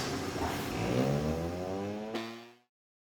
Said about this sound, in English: just so that the centrifuge doesn't kind of go out of control when it starts spinning really, really fast